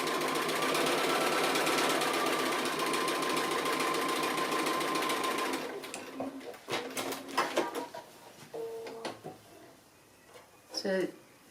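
Sewing machine stitching appliqué runs in a steady, fast continuous whir for about five seconds, then stops, followed by softer clicks and handling sounds.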